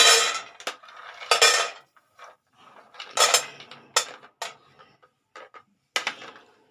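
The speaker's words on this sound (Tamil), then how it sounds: "நம்ம முதல்ல பதாமும் முந்திரி பருப்பும் போட்டு வறுத்துக்கலாங்க" Almonds and cashews being dry-roasted in a pan over low flame with no ghee, stirred with a utensil that gives bursts of dry rattling and scraping separated by short quiet gaps.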